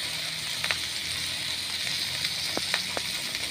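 Pork grilling on a pan with its fat dripping, a steady bright sizzle and hiss throughout, with a few small pops and crackles rising over it.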